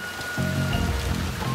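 Steady rain falls across a village level in the stealth game Shadow Tactics, a constant broadband hiss with low musical tones underneath and no clear talk.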